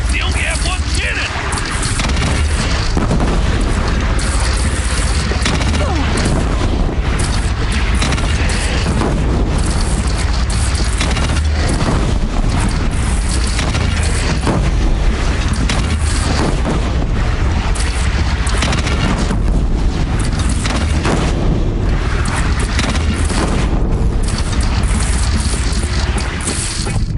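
Cannon fire and explosions in a video game battle against a bandit clan: dense, heavy booms blend into a loud, unbroken roar, with voices shouting over the din.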